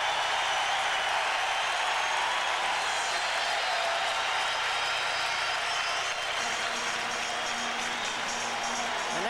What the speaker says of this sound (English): Listen to this crowd, would you?